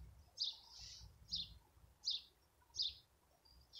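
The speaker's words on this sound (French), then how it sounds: "On entend les oiseaux chanter." Birds singing outdoors at nightfall near a workshop entrance on a calm, cool evening, four faint, evenly spaced high chirping phrases over quiet low background rumble.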